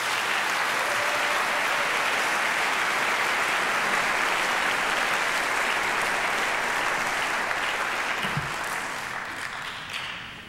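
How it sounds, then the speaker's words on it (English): A large audience claps for a panel at a talk on moral challenges, a dense, steady round of applause that carries on for several seconds and tapers slightly toward the end. "Let's please give a hearty round of applause for this distinguished"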